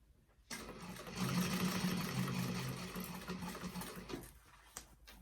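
A sewing machine runs in a steady stitching burr while sewing a vintage expandable tote bag, starting abruptly, holding a continuous rattling drone for several seconds, then stopping, with no talk over it.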